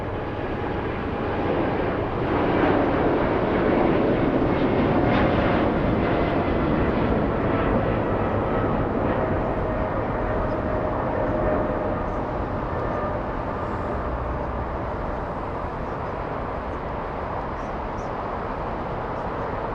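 A Kalitta cargo freighter jet at LAX gives off a steady, fairly close engine roar that swells slightly early on and then holds as a broad, even rumble with no voices over it.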